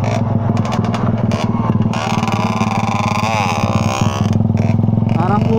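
A motorcycle engine, a Raider 150 or Kawasaki HD3 two-stroke from a racing team, revving hard with a rapid buzzing rattle, rising and falling in quick bursts, loud and close.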